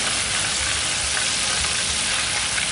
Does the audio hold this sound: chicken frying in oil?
yes